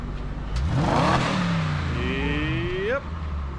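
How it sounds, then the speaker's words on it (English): A BMW 645Ci V8 is revved once hard, its pitch climbing quickly and then falling back, followed by a second rising rev that cuts off abruptly. The engine sounds close and loud, with no talk. "Get in and give it a rev."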